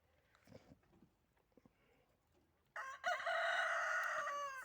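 Faint rustling and clucking give way to a loud, sustained rooster crow near the end.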